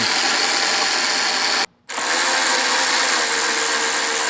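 An auto ratchet tightens bolts on the rack of a 2026 Vespa GTS 310 scooter, a close, continuous buzzing whir that cuts out briefly in the middle and then resumes.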